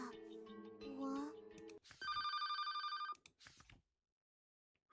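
A phone ringtone in the game The Seven Days I Spent With You rings as a bright, steady, tonal chime for about a second, right after a stretch of talking, then fades into silence.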